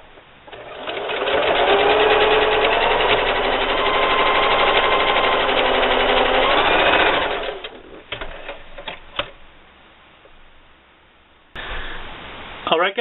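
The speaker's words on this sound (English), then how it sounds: "I'm just going to go ahead and run another seam down on the other side, just to make it a little more symmetrical" A sewing machine stitches a seam on a drawstring backpack in one loud, steady rapid whir for about six seconds, then stops, leaving faint handling sounds of fabric and clicks.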